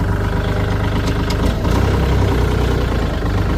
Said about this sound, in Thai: ฟังเสียงเครื่องยนต์สักนิดนึง